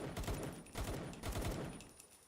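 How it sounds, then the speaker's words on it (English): Rapid automatic gunfire from a creature's mounted gun in the Palworld video game, a loud, dense fusillade of overlapping shots pulsing in quick bursts without any talking. "It's got a gun. Yeah. And it shoots when you shoot."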